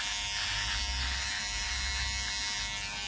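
An electric hair clipper buzzes steadily while trimming a beard into a Gulf-style goatee, a loud, continuous, close-up motor whine with no break and no speech.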